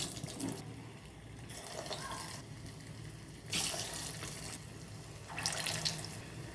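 Bottle gourd kofta balls frying in hot oil, a soft continuous sizzle with bursts of louder crackling as pieces go in, fairly quiet overall.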